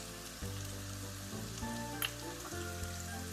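Ground spices for a lamb kidney biryani fry in a hot pan, giving a steady, moderate sizzle with a faint stir or tap midway and no talking.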